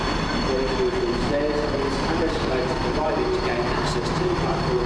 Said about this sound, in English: is this the train to Rugeley?